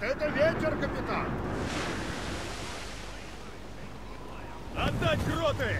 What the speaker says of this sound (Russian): Вот это ветер, капитан!